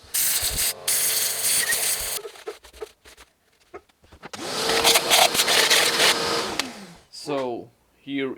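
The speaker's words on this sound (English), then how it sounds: "I will try to vacuum all the holes" A vacuum cleaner sucking metal shavings out of the holes of a VW Golf MK1 1.6D engine block: loud roaring bursts of suction with rattling debris, broken by a quieter stretch of clicks, ending with brief talk.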